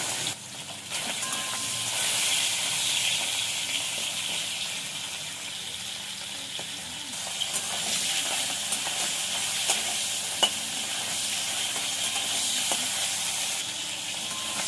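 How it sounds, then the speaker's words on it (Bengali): Fish head frying in hot mustard oil in a kadai, with a steady close sizzle and hiss that runs throughout and swells a little at times, broken by occasional pops and stirring clinks. "তেলটা গরম হয়ে গেছে, মাছের মাথাটা ভেজে নেব"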